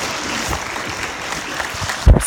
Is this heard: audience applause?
yes